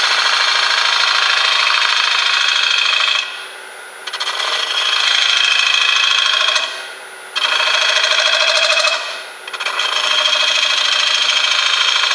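A finishing gouge cutting a spalted red oak bowl on a lathe, a loud continuous scraping hiss that drops away twice as the tool lifts off and then returns.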